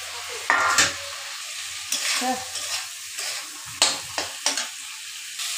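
Potatoes and eggplant frying in a spiced masala in a pan, a broadband sizzle broken by several short bursts of stirring and scraping, close and moderately loud.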